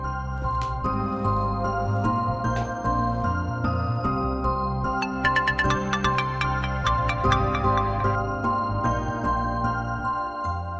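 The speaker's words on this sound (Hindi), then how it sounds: "मैं कामी को भी फोन करके बता देता हूँ।" A melodic phone ringtone plays on and on, a bright electronic tune repeating its notes at steady volume.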